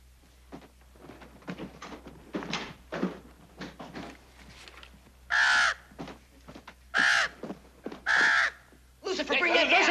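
A crow caws in four loud, separate bursts between soft indoor bumps and voices, with a longer harsh call at the end.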